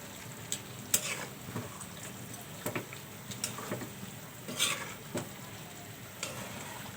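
Beef cooks in a tablespoon of ghee in a pan, a soft sizzle under irregular scraping and clinking stirs from a utensil, fairly quiet and close with no voices.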